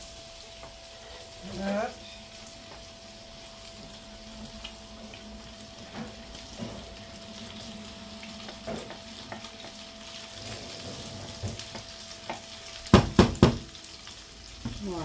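Coquillettes pasta tipped into a pan of browned lardons, giving a soft continuous sizzle with scattered stirring clatters, a hum in the background and a cluster of sharp knocks near the end; a voice speaks briefly.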